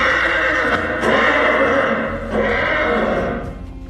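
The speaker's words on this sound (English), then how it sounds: "a piercing horse's whinny echoed in the distance." A horse gives a loud, piercing whinny, shrill and sustained for several seconds with a slight break midway, fading at the end, with faint hoof clatter beneath.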